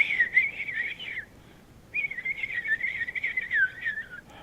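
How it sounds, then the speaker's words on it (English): Woodland bird ambience for a tabletop game: a clear warbling whistle-like bird call runs for about a second, pauses, then returns for two more seconds over a faint background. No distinct knocking stands out. "like birds and more tree knocking."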